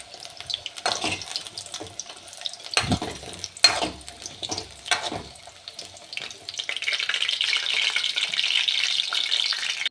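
Onions sizzling in a pan for an onion curry, with scattered stirring clatters and a steady frying hiss building toward the end, no talk.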